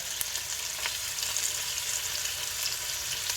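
Whole black peppercorns and cumin fry in a pot for lamb paya, giving a steady soft sizzle with a few faint scrapes and taps of stirring, heard alone without any talking.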